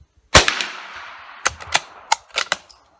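A Remington 581 rifle fires outdoors: one loud, sharp shot with a ringing decay, followed by a quick series of crisp metallic clicks and clacks.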